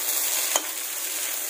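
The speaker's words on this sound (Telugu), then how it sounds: "సో ఇలా ఫ్రై అయిపోవాలి" Vegetables and egg fry in a pan for egg noodles, giving a steady, close hiss with one brief stir scrape partway through and no talking.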